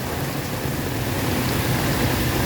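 Heavy rain pouring down outdoors, a dense, loud, continuous hiss of water striking surfaces with no pauses or voices.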